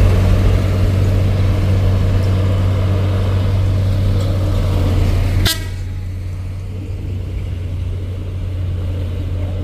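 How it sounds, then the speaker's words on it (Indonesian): A tanker truck's engine rumbles loudly and close with a steady low drone, and a sharp brief knock cuts in midway, after which the engine note continues slightly quieter. "truk tangki."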